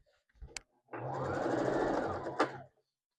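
A sewing machine stitches a straight seam through plaid fabric for a scrap quilt block, one steady close run of about two seconds with a soft click before and a clunk as it stops.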